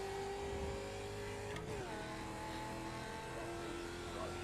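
An Indy race car engine in a racing video game drones at a steady low speed along pit lane, a constant loud tone held in one gear, with a brief dip in pitch midway and no speech.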